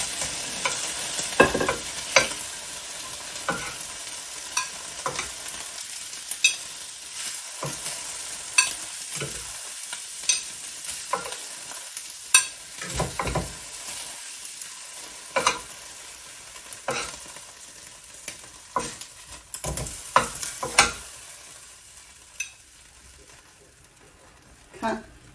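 Wild venison and beef fry in a pan with a crackling sizzle, broken by repeated scrapes and stirring knocks from a utensil. The sound is close and uneven, and no one speaks.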